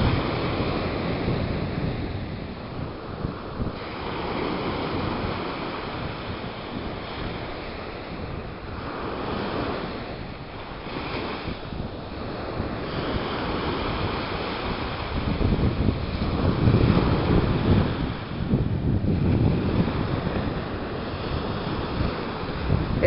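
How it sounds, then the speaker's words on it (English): Steady roar of Atlantic Ocean surf rolling onto a beach, with continuous wash and wind buffeting the microphone, swelling louder toward the end. "I just like to sit here for a minute and listen to the ocean."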